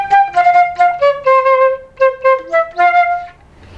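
A solo flute plays a short melodic line of detached notes, descending and then rising again, clear and close with no accompaniment.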